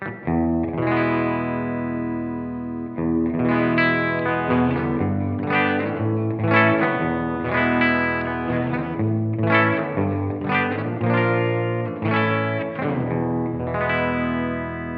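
Clean electric guitar through a Blackstar Dept. 10 Amped 1 pedal with gain fully up, mild overdrive, strummed chords and picked notes ringing steadily with a touch of chorus and echo, no voices.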